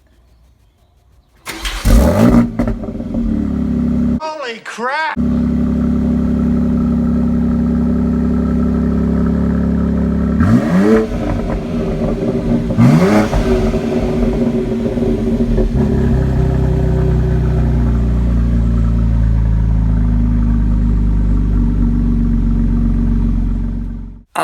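BMW X4 M Competition SUV engine starting up loud and close, with sharp revving blips of the sports exhaust, then settling into a steady rumbling idle; a man briefly exclaims over it.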